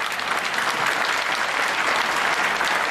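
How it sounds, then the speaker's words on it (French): Church meeting audience breaking into steady, dense applause, a loud continuous wash of many hands clapping with no voices standing out, filling the whole stretch. "Well, you can clap."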